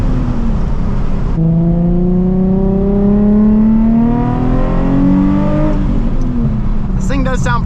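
Loud, close engine of a Nissan 350Z HR build under way, droning at first and then climbing through the revs in a long rising pull before easing off, with a voice cutting in at the end.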